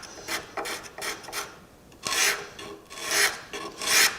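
Rough, rasping strokes of a sharpened scraper drawn over a curved sculptural wood carving, repeated in a steady back-and-forth rhythm, close and fairly loud with no voices.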